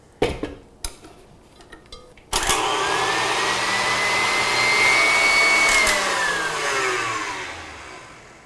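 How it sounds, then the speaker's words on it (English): A stand mixer whirs steadily on medium-high while beating icing sugar into a thin icing, its motor starting abruptly after a few light knocks and holding a loud, even drone with slight pitch shifts. "stand mixer and mix on medium-high until you see it taking on some volume"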